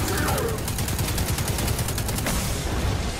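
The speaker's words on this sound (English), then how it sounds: "Keep shooting him, keep shooting him, keep, just keep shooting him." Dense rapid gunfire in Destiny 2, a continuous loud burst of fast repeated shots filling the whole stretch with a brief faint voice underneath.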